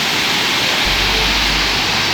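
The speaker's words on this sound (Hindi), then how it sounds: "ये ओवरफ्लो का पानी नीचे की ओर बह रहा है" Overflow water pours steadily downward beside the Subhash Nagar metro station, a dense, even rushing roar that stays loud and unbroken throughout, with a low rumble joining partway in.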